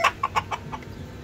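A rooster and hen on a poultry farm give a quick run of about five short, close clucks in a warm setting where ducks and chickens are kept.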